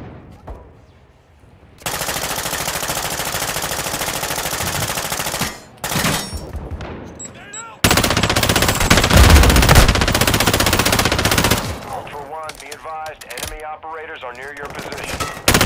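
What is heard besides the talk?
gunfire in a first-person shooter video game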